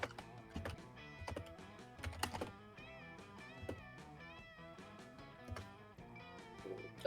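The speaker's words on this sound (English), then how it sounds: "Me loudly typing away at my loud-ass fucking keyboard" Loud computer keyboard typing clatters in quick bursts of clicks, mixed with steady background music throughout.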